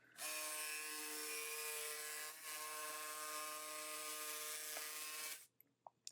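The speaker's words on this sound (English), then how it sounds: "I'm just kind of doing a rough cut here to get the dimensions." A rough cut through 1/4 inch walnut plywood, a steady buzzing, whining cut that runs close and loud for about five seconds with a brief dip midway, then stops abruptly.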